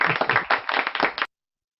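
A small group at a Christian music college gathering claps for a singer, close, lively, slightly uneven clapping that stops abruptly after about a second, followed by silence.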